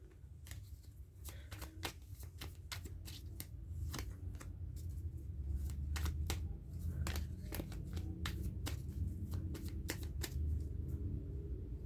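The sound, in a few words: shuffling tarot cards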